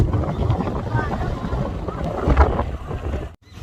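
Strong wind roars and buffets the microphone in a continuous rumbling rush, briefly dropping out near the end.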